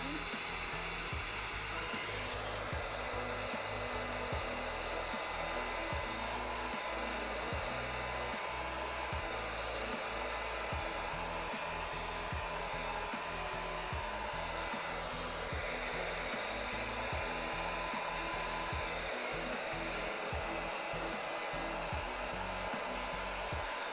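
A heat gun runs steadily for cosplay armor crafting, a loud continuous airy whir that holds without a break throughout.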